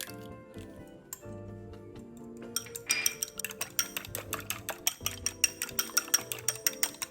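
Egg beaten in a bowl for corn soup with rice balls, a utensil clicking and scraping against the bowl in a fast, steady rhythm that grows livelier midway.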